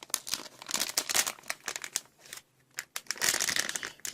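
Plastic packaging of an nRF24L01 wireless module crinkles and crackles as it is opened by hand, close and fairly loud, in irregular bursts with a brief pause midway.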